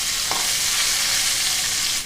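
Pangas fish frying in hot oil, a loud, steady sizzle with a dense crackle that holds evenly from start to finish, close up and with no voices.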